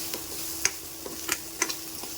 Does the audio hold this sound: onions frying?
yes